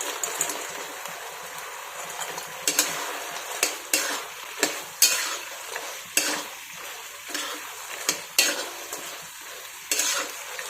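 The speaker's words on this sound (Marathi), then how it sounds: "याच्यामध्ये आपण इडलीचे तुकडे टाकून घेणार आहोत." Idli pieces are stirred into a cooked gravy in a pan for idli manchurian, with a soft continuous sizzle and regular scraping, clinking spatula strokes against the pan.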